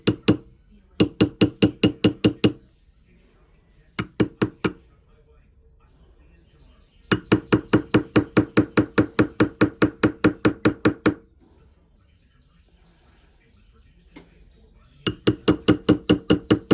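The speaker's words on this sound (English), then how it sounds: "Now we're going to switch to a ball peen hammer a little bit just because this metal is so hard." A ball peen hammer strikes a hard white gold ring, being sized down from 7 to 4.5, in bursts of rapid, evenly spaced metallic taps separated by short pauses, loud and close with no talking.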